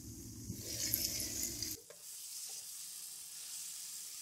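Potatoes and capsicum sizzle as they roast in an uncovered pan, with scraping stirring at first. The frying then drops abruptly to a quieter, steady hiss with light clinks.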